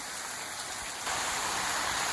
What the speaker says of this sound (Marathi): जबरदस्त पाऊस पडत ह्या